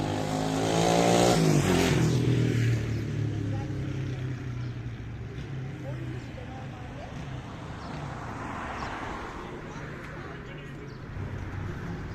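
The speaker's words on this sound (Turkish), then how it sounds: "Ufukta bir otobüs gözüktü." Vehicle engine on a road outside a hospital on a quiet weekend, rising early then holding as a steady rumble. A voice speaks over it near the start.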